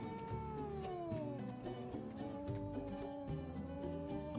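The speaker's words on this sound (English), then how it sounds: "Oh, here's the cat." A cat in the horror video game Dreadout 2 meows and caterwauls repeatedly in long, wavering, drawn-out cries, close and loud over a low ambient game background.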